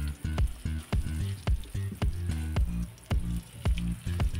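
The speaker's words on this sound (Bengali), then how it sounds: "উস্তাটা দেখো মোটামুটি ভাজা হয়ে গেছে, বেশ ভালো কড়া করেই ভাজা হয়ে গেছে" Bitter gourd slices frying until crisp in a pan: a steady sizzle broken by regular, rhythmic bursts about twice a second, close and clear.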